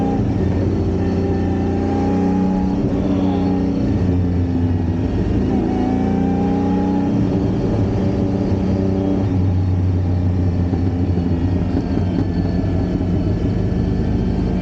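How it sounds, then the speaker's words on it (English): A 1952 Ferrari 340 Mexico race car's engine drones loud and close at speed, its steady roar rising and falling through shifts, with scattered exhaust crackles in the mix. "Pops and bangs from the exhaust"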